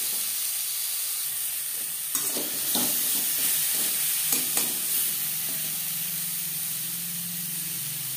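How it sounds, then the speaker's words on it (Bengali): Raw mango pieces frying in a pan with salt and turmeric, a continuous close sizzle with several scraping stirs of a spatula in the middle, then the sizzle settling, no voices. "লবণ হলুদ দিয়ে আরও 2-3 মিনিট আম ভেজে নেব"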